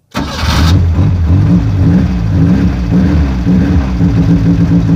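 A four-cylinder car engine, just rewired after running on three cylinders, starts with a brief starter whir then catches into a loud, steady, slightly uneven idle with a deep throbbing rumble, close by and with no speech.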